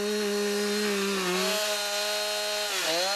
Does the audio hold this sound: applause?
no